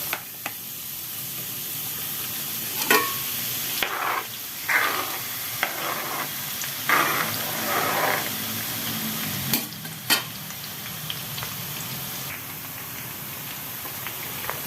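Garlic frying in hot cooking oil, a continuous crackling sizzle with several louder bursts of stirring and utensil clinks scattered throughout, close up.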